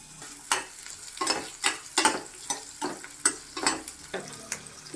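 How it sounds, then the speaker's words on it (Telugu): Onions fry in hot oil for an eggplant curry masala, with a soft continuous sizzle broken by repeated sharp scrapes as a spatula stirs the pan, about two per second, close and alone. "ఆనియన్స్ వేసుకుంటున్నాను."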